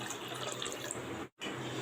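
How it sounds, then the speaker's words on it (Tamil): Water pours steadily into a bowl of soaking beans, a soft continuous splashing stream that breaks off for a brief moment before resuming, heard quietly and close. "இப்போது தண்ணி ஊற்றிடலாம்."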